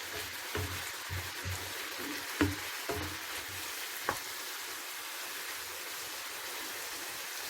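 Bitter gourd and shrimp stir-fried in a pan: a steady sizzle with a few sharp scrapes and clacks of stirring, close by and moderately loud, no talking.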